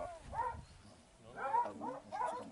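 A pack of Ariégeois hounds bays during a hare-hunting pack contest, moderately distant howling cries rising in overlapping bursts outdoors, with some quiet speech.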